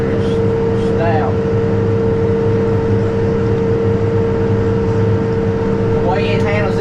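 Kubota tractor pulling a 10-foot hay cutter, its engine a steady, loud, continuous drone with a strong tonal hum and no breaks, a person talking faintly at moments over the machinery.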